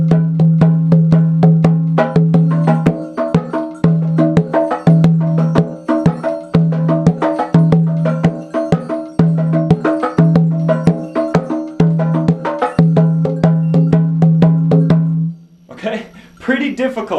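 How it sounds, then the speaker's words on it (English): Three bata drums play the Ochosi rhythm together in a steady, dense pattern of repeated strokes with a sustained low tone, loud and close; the drumming stops near the end and a brief voice follows. "so all together it's going to sound like this."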